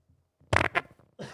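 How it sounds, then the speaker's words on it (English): A real fart sounds right against a microphone, loud and close, in a couple of sputtering blasts followed by a short softer puff. "That was a real fart right on the microphone."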